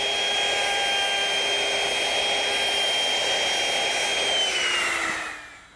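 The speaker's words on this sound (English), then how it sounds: "bring the router in somewhere in the center of the leg" A wood router cuts into the center of a student desk leg, guided by a square against its base: a loud, steady high-pitched whine that holds for several seconds and then spins down as the motor stops.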